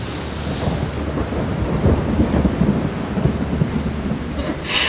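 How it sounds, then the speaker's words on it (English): A homemade DIY rain stick gives a loud, continuous rushing patter like falling rain, with a low rumble underneath, steady for about five seconds. "how they made their rain stick make noise"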